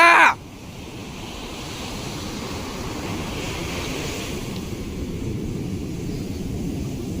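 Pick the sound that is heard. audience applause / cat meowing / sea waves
sea waves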